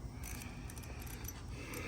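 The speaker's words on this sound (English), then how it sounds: "wrench, or socket wrench, socket and ratchet wrench" Socket and ratchet wrench turning during a snorkel riser install on a CFMoto XMR 700 ATV, quick faint clicking ratchet strokes repeating close by.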